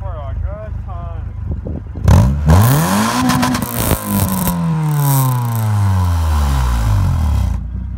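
A car fitted with a carbon fiber exhaust muffler revs hard up to red line, a loud rising engine roar that climbs, holds and sweeps down over several seconds, with brief talk at the start.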